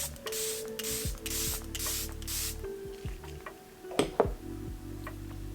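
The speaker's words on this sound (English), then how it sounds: "I'm just gonna finish the look with some Charlotte Tilbury setting spray" Several short hissing bursts of a Charlotte Tilbury makeup setting spray in quick succession, close and fairly soft, followed by a few light clicks and taps.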